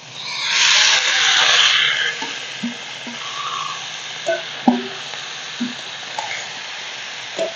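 Boiled jackfruit drops into a pan of oily, well-fried spice paste, and a burst of bright sizzling flares for about two seconds. It then settles into quieter crackles and scattered pops of hot oil.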